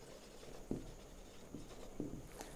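A teacher writes on a classroom board during a math lecture, producing a few faint, short scratchy strokes against a quiet room background.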